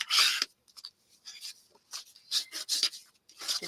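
Folded 12 by 12 craft paper is creased with a bone folder, giving quiet dry scraping and rubbing strokes in short, irregular bursts, the first one longest, with brief pauses between.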